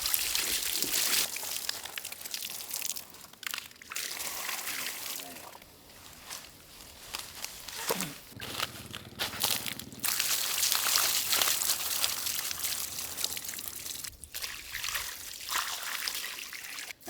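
Water pours and trickles continuously while a large sailfish is cleaned outdoors, a close splashing stream with irregular drips and spatters. Voices talk intermittently over it.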